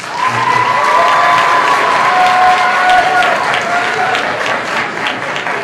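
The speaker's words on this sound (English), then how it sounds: "Orchestra, another round of applause." A high school holiday concert audience applauds its string orchestra, a loud, steady wash of clapping with some cheering that holds throughout, a faint tone lingering underneath.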